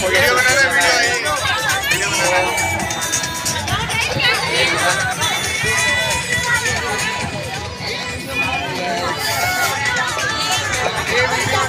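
Loud, constant hubbub of a large crowd at the Nauka Vihar boating lake, Gorakhpur, with many voices chattering together close by and a brief lift of cheering.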